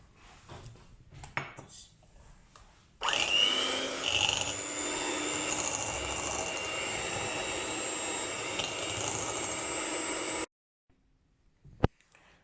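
An electric mixer beats slightly cold butter into a carrot cake bun mixture, a steady loud whirring drone lasting about seven seconds before cutting off, followed by a single clink.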